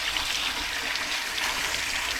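A steady spray of water hisses against a car radiator condenser, a constant close rushing wash with no breaks and no talking.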